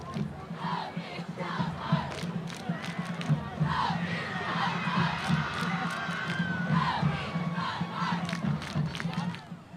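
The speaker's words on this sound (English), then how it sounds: "I don't know if you heard the little screams that was coming from them as they jumped in joy." A high school student section at a Mission High versus Edinburg High football game cheers and screams, a loud sustained crowd roar with shrill whoops and shrieks rising throughout.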